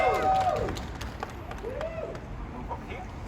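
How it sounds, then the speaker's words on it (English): Crowd applause and scattered cheering rise from a gathered audience at an evening protest outside a senator's office, fairly steady throughout with a murmur of voices mixed in. "let's give them a round of applause."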